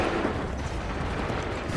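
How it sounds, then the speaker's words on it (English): A massed musket volley crackles in the video game Assassin's Creed III, a dense, continuous rattle of distant gunfire held at moderate loudness for the whole short stretch, with no voices over it. "Shoot. Hold fire. Make ready. Open fire."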